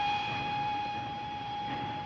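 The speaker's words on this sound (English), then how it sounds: "The train!" A train in the 1940 film Night Train to Munich rumbles steadily with a sustained whistle-like tone riding over it, continuous and moderately loud throughout, with no speech.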